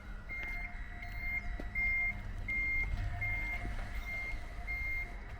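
A car reverses with a steady, repeating electronic reversing beep sounding clearly over a low engine rumble, with no voices.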